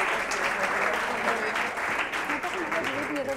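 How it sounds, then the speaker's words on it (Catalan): A studio audience on a Catalan word game show applauds a contestant, steady and full clapping that fills the room evenly from start to end. "Un aplaudiment també per ella"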